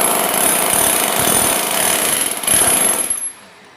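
A Bosch GSH500 electric demolition hammer chisels concrete in a loud, continuous rattling run. One short pause comes near the end, the hammer picks up briefly again, and then it stops abruptly into quiet. No speech.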